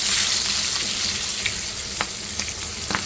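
Cumin, turmeric, red chili powder and slit green chilies fry in oil on low heat, a steady bright sizzle with a few soft spoon scrapes and clicks against the pan.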